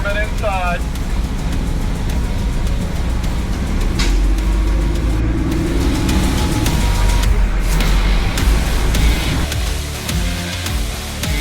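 A loaded semi truck with a specialized trailer rolls slowly onto a weigh scale, its steady low diesel rumble and road noise continuous and close, with brief clanks and hisses over the top and a voice talking over it.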